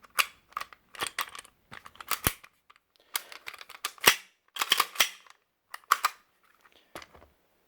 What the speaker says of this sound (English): Let's get the gun back together.